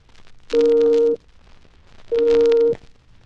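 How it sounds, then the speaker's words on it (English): Two identical electronic beep tones, each about half a second long, separated by a brief pause, loud and steady with a clean pitch. "When you hear a double tone that sounds like this,"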